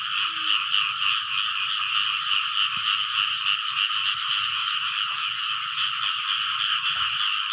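Frogs croaking in a dense, continuous chorus after rain near a village, loud and steady with rapid overlapping pulses throughout, plus a faint low rumble underneath.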